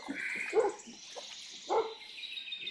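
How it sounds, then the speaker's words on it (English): A dog on a canal bank barks at a passing kayak, two or three sharp barks at moderate distance over steady outdoor ambience, with birdsong in the background. "doggy having a go at me from the bank there"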